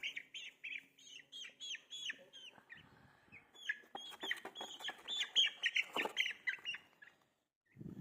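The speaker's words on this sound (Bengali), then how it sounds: "এখন আমি একটা মুরগি ধরে দেখাবো আপনাদেরকে।" Ten-day-old broiler chicks chirp in a dense, continuous chorus of high peeps close by, growing more agitated as one bird is handled, then falling briefly silent before a low thump at the end.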